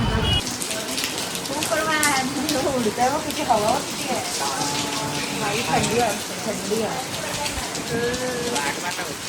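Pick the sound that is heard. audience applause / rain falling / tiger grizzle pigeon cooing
rain falling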